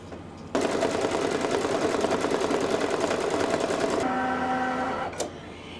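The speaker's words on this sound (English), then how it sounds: "now it's going to create that tack down stitch." Embroidery machine sewing a tack down stitch, a fast even mechanical chatter of the needle running steadily for several seconds, then slowing with whirring tones before stopping, close and clear.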